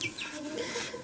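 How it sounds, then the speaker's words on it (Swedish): Chickens, two roosters and two hens, clucking and squawking softly and continuously at close range over a busy background. "De här två, det är 2 tuppar och 2 hönor."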